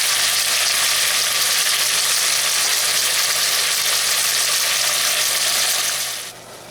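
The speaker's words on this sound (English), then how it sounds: "Now we're going to start sauteing our vegetables in" Vegetables for cowboy chili sautéing in a hot pan, a loud dense even sizzle held close for several seconds before dropping away abruptly at the end, with no talking over it.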